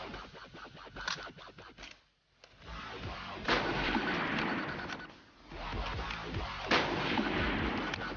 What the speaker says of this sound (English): we'll try and fire a few rounds off on the famous Gewehr 98